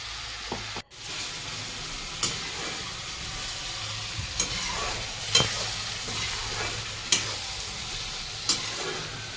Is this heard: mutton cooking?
yes